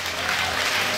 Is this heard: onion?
no